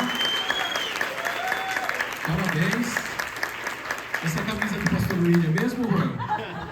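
A church congregation applauds warmly after a performance, sustained clapping with scattered laughter while someone speaks over it at moments.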